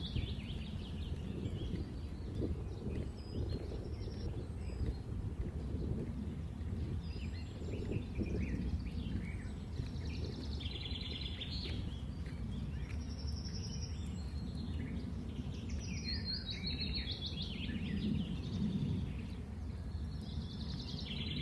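Scattered birds chirp in short high calls across Saratoga Hills in Tagaytay Midlands, moderately distant, over a steady low outdoor rumble with no talking.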